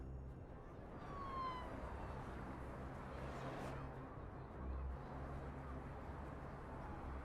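A police car siren in the city-building video game Cities, faint wailing tones sweeping over a constant traffic-like background hum, distant and low in level.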